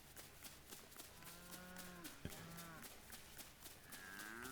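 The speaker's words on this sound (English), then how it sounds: "Cows." Cows moo in the Lego Fortnite video game, several long low drawn-out calls rising and overlapping at a moderate distance over steady ambient game sound, with no talk.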